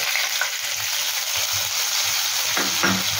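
Ginger paste mixed with chili powder and turmeric hits hot oil in a hilsa curry pan, giving a steady close sizzle with faint stirring scrapes throughout.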